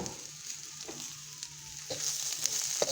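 Cabbage fries in a pan with a steady, soft sizzle and crackle, close and fairly quiet, growing a little louder toward the end with occasional sharp pops.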